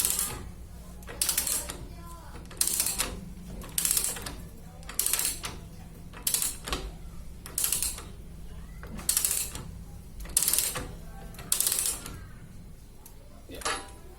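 Tightening a square-taper bicycle bottom bracket bearing with a tool gives repeated ratchet-like clicking bursts in a steady rhythm, about a dozen over the span, fairly close and moderately loud, with no talk.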